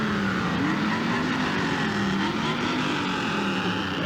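Sports Car Club of America Fort Wayne region cars roll by in a street parade, a steady low engine drone with rumbling exhaust, moderately close and continuous.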